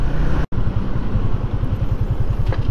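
A motorcycle riding along a road with traffic on both sides, its engine loud and close with a steady throbbing pulse and a brief dropout midway, no talk over it.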